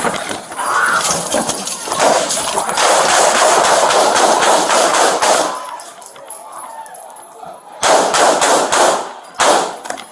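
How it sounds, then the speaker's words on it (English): During a nighttime police use-of-force incident, loud, dense gunfire rips out in a long, continuous barrage, stops briefly, then returns in two shorter bursts, sharp and harsh with a metallic edge. "63 shots fired, 63 shots fired"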